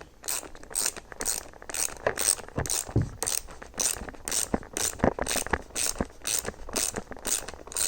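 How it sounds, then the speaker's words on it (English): A ratchet wrench, 9/16 size, clicks steadily while tightening the pivot cup insert on a roller skate, with rapid repeated ratcheting bursts, close up and fairly loud, with no talking. "Use my 9/16 wrench. Tighten it on."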